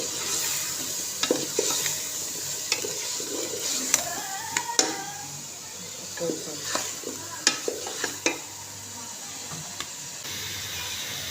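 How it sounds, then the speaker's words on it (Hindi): Potatoes frying in a pan for aloo palak sabzi, with a steady close sizzle and repeated scraping stirs and clinks of a spoon against the pan, no talking. "तो अब इसको अच्छे से आलू को भूनेंगे पहले"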